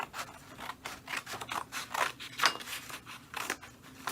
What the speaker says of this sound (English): So I'm gonna cut this extra.